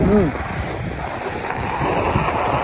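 Strong wind buffets the microphone in a constant low roar, with a brief voice at the start over the rushing gusts.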